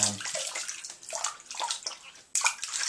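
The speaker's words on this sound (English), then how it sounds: "what I'm going to do is wash my face off" Water splashes and sloshes at a bathroom sink as a face is rinsed after shaving, a few short uneven bursts of dripping and splashing, close and fairly quiet.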